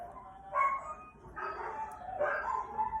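Pet dog barking indoors during a makeup routine. Three faint, separate bark bursts about a second apart, heard at a distance in an otherwise quiet room.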